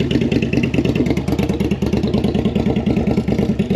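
A bobber motorcycle engine idles after carburetor sync work, a loud, close, rhythmic chugging with a slightly uneven beat that runs steadily throughout.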